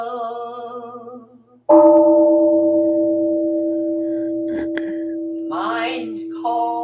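A single temple bell is struck during a Buddhist service and rings out with a long, clear, slowly fading tone, preceded by another resonant tone and joined by brief sounds later.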